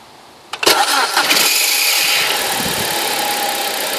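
A BMW 1 Series five-door with manual gearbox cranks briefly and fires up, then settles into a loud, steady idle close by with no talking.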